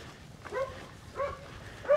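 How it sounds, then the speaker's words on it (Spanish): Dogs bark a few times at a distance, three short yelps spaced out over quiet outdoor background. "Yo creo que escuchó ladrar a los perros"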